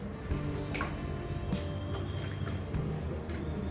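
Liquid from a homemade model fire extinguisher, a baking soda and fizzy-salt mixture in a pierced container, pours out in a steady trickling stream with faint dripping and splashing, close by and fairly quiet.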